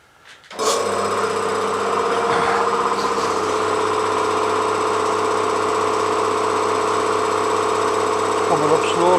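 A Shamal air compressor starts up and runs steadily, its motor droning loud and close at an even pitch as it builds pressure, with faint clanks near the end.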